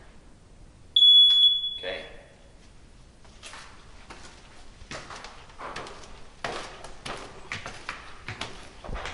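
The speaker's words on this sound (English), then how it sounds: "Make sure you always have batteries in your smoke detector." A smoke detector alarm sounds one loud, shrill, steady beep for about a second near the start, followed by household thumps and clatter with a brief spoken word.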